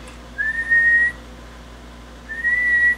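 Two sustained whistled notes, each about a second long, separated by a short pause, clear and close with a quiet background.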